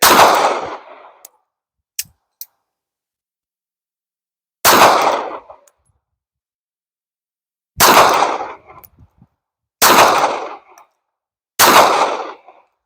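A Smith & Wesson Bodyguard 380 pistol fired at a range, five loud, sharp shots at uneven intervals with short decaying tails, plus a couple of faint metallic clicks early on.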